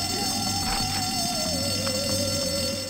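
Fire alarm in the video game Bully, a steady continuous electronic ringing tone with a wavering pitch, loud and constant throughout with no talking.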